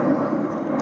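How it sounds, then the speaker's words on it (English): An airplane flies overhead, a brief, steady low engine drone of moderate loudness heard on its own for under a second. "Got planes going over."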